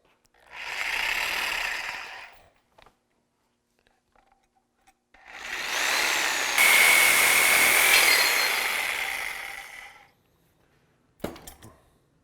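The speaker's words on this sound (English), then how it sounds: "We've got it drawn out, now we're ready to start cutting." A power tool cuts through a lift kit part in two loud, steady runs of whining, rasping noise separated by near silence, with a short sharp burst of cutting at the very end.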